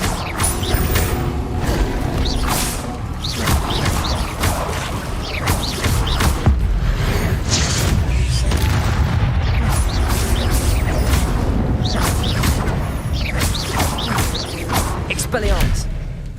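Spell-casting effects clash in Hogwarts Legacy combat: a dense, continuous run of whooshes, cracks, crashes and mechanical clanks, loud throughout, with a voice shouting over the action at times.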